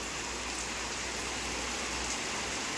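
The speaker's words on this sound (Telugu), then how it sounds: "బయట వర్షం పడుతుంది" Heavy, nonstop rain from a storm falling outside a house, a steady, dense hiss with no pauses.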